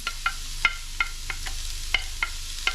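Green onions sizzle in a hot pan for Guyanese metemgee, with a steady frying hiss under a run of crisp, regular spoon clicks against the pan, close up and without speech.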